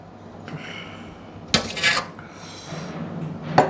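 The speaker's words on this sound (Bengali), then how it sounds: "একটু নেড়ে নিলাম।" Bhetki fish curry being stirred in a pot with a utensil, giving scraping and clinking metal-on-pot sounds, with a sharper burst in the middle and another brief clank near the end, against a quiet kitchen background.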